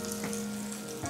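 Peanuts and chana dal roasting in a pan while being stirred, a short burst of soft, close sizzling and dry scraping with no talk.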